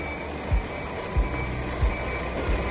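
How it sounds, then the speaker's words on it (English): A truck's reversing alarm sounds while it manoeuvres, four evenly spaced beeps about every second and a half over a low background hum, no talk. "the truck is starting to maneuver"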